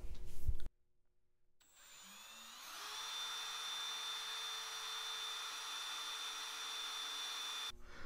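Power drill spinning a 5/8-inch bit with a 1/2-inch shank on a coupler, held in a spindle drilling guide; after a short knock and a pause the motor spins up and whines steadily and loudly for about five seconds, alone, then stops.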